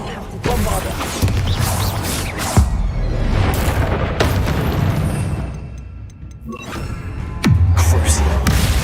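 Confringo fire spell blasts in the Hogwarts Legacy video game, with heavy booming impacts and thuds recurring through dense battle noise, loud and close.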